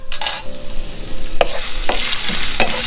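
Chopped ginger hits hot oil for General Tso chicken, a loud crackling sizzle with a few sharp clicks of a spoon or spatula against the pan, no talking.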